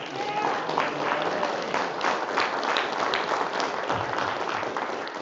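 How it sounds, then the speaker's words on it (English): A gala audience at a temple's 75th anniversary program gives a sustained round of applause, dense steady clapping from many hands filling the room for several seconds. "Let's give a big round of applause."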